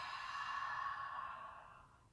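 A single long audible exhale during a yoga flow, a breathy sigh close to the listener that starts strong and slowly trails off over about two seconds, with no voices.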